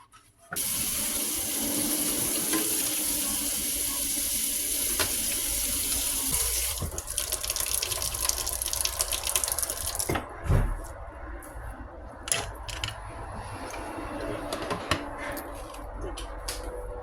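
Water runs steadily from a tap into a sink while a vintage 1998 Barbie doll's hair is rinsed and washed, a continuous close splashing hiss with small sloshes and drips near the end.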